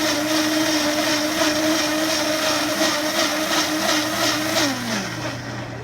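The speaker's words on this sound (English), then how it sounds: "then we throw it in the blender." A countertop blender whirs steadily on high, close and loud, emulsifying a batch of bulletproof coffee made with butter and oil, its pitch sagging slightly near the end as the motor winds down.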